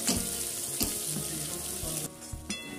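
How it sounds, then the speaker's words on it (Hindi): Soya chilli with vegetables stir-frying in a pan on high flame, a steady loud sizzle with a few sharp stirring clatters and scrapes throughout, no talking. "अब हम इसे मिक्स करते हैं और गैस को हाई फ्लेम करते हैं। हाई फ्लेम पर भूनने से सब्जियों में क्रंच रहेगा।"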